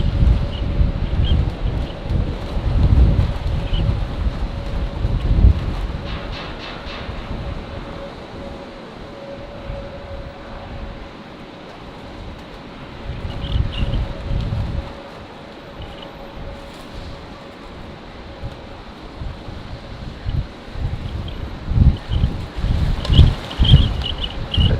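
Strong gusting wind buffets an outdoor microphone beside an airport runway in Brisbane, roaring in uneven surges with a faint steady hum underneath and quieter lulls between gusts.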